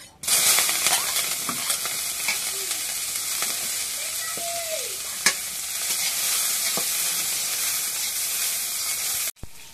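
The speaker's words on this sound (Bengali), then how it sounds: "এখন পেঁয়াজ মরিচ তেলত ভাজা হয়েছে" Onions and green chilies frying in oil in a kadai produce a loud, steady, close sizzle and hiss with occasional stirring clicks, cutting off abruptly near the end.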